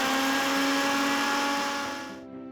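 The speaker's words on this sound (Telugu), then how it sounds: "ఇప్పుడు ఇందులోకి వేపిన ముల్లంగి మిశ్రమం వేసి మొత్తం అంతా ఒక్కసారి కచ్చాపచ్చాగా రుబ్బుకోవాలి" A kitchen blender whirs loudly and steadily as it coarsely grinds a fried radish chutney mixture, then winds down and stops after about two seconds.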